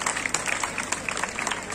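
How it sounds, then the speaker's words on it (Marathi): Students applaud at a school annual gathering, a steady patter of many hands clapping at moderate volume throughout, with a faint murmur of the crowd underneath. "चला सर्व विद्यार्थ्यांनी टाळ्या वाजवून त्या गुणांचं कौतुक करायचं आहे."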